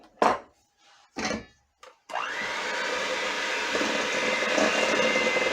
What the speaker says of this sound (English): I'm just using my hand mixer because these go together very quickly.